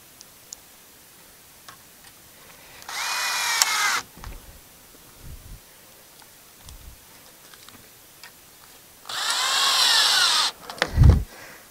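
Two short bursts from a power drill driving screws into a bracket for raised bed hoops, each whining for about a second, with a few clicks and light handling knocks between them.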